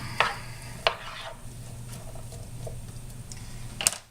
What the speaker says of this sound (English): Grab my spoon. Start mixing this up.